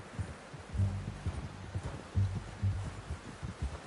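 A horse's hooves clip-clop in a video game, a steady run of muffled, low thudding steps at moderate volume, alone with no talk.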